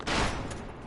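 A short, loud burst of gunfire strikes the player while exploring an orange castle in a video game, a single sharp hit that trails off quickly.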